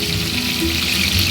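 Potato and pointed gourd pieces frying in oil in a kadai, giving a dense, continuous sizzle close by with no voices.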